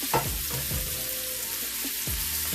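Chicken wings frying in olive oil and butter in a single pot, a loud, close, steady sizzle with a few soft bumps and shifts of the pieces, no voices.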